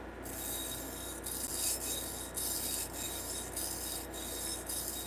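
A knife blade being freehand sharpened on a stone, repeated rasping strokes in a steady back-and-forth rhythm, close and fairly quiet, with no talk.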